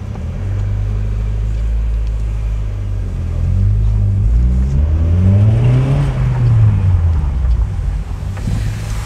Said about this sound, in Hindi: तो गाड़ी करते हैं स्टार्ट, और आपको एक बार फिर से साउंड सुनाने की कोशिश करता हूँ।